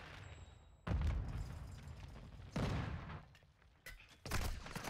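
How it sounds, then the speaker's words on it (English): Blasts from a flash grenade and gunfire in Call of Duty: Modern Warfare II online multiplayer: three loud, close, broadband bursts about every second and a half, with busy combat noise between them. "Throwing flash grenade"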